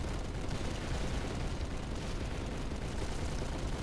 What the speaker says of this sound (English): We need to throw a bunch of grenades inside there.